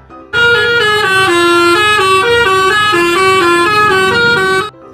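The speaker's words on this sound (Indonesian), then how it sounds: "Di sini ada bis telolet warna merah." A red toy telolet bus horn plays a loud, continuous melodic honking tune of stepping multi-tone notes, sustained for about four seconds on its own before cutting off.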